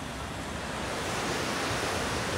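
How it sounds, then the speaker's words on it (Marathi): Rushing river water at the confluence of the Dhauliganga and Alaknanda rivers in the Himalayas, a steady, dense roar of turbulent flow that fills the whole clip with no voices. "इथे एक धौली गंगा आहे आणि एक अलकनंदा नदी. या 2 नद्यांचा संगम होऊन पुढे अलकनंदा नदी पुढे जाते ना."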